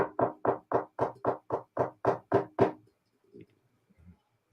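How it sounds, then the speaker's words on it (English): Ten loud, evenly spaced knocks land close to a microphone, a rapid steady series lasting under three seconds, followed by a few faint scattered bumps and near silence. "can you hear the knocking?"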